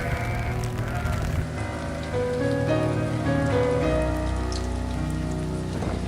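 Cold rain patters steadily on sheep grazing outdoors. Sheep bleat repeatedly through the downpour at close to moderate distance.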